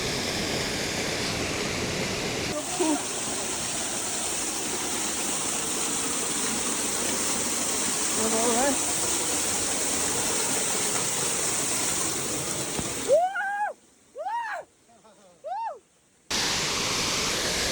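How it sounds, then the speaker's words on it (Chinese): A waterfall on the Nepal Everest Base Camp trek, swollen after four days of heavy snowfall, gives a steady, even rushing roar. Near the end the roar drops out in short gaps, with a few brief rising whistles. "第一次走过这里的时候，这瀑布还没那么大呢"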